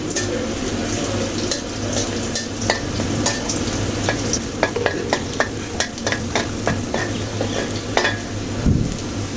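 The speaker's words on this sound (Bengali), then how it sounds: "শুকনো মরিচগুলো ভেজে নিতে ভুলে গেছিলাম তো ভেজে নিচ্ছি" Dried chillies sizzle and crackle in hot oil, with frequent sharp pops and spatters over a steady frying hiss.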